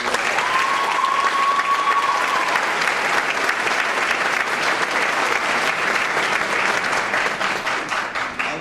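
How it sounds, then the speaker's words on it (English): Loud, sustained applause from an audience honoring a police department youth academy class, dense clapping filling the room continuously and thinning slightly toward the end. "Everybody give them a round of applause"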